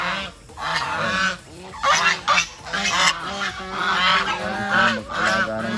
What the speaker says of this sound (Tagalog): Mag-alaga ng gansa.